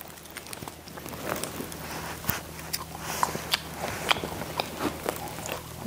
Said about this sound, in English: Let's have a little bit of a nibble.